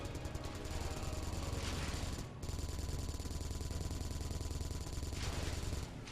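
Turrets in the Space Engineers video game fire in a continuous rapid rattle of gunfire, steady and dense, broken by a couple of brief pauses.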